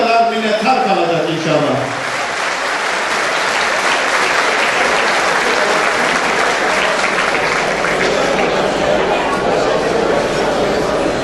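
A Turkish event audience applauds strongly and steadily for about eleven seconds, a dense, loud wash of clapping that follows a voice at the start.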